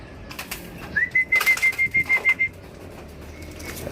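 A racing pigeon returning from a summer training flight in Moncada, Tarlac beats its wings in a quick run of about ten soft, rhythmic flaps close by, with a thin whistle-like tone over the start.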